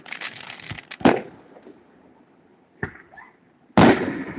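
Fireworks at Dickson City Days, a town festival display: three separate loud bursts, a sharp bang near the start, a smaller pop midway and a big crackling blast near the end, with quieter crackle in the gaps.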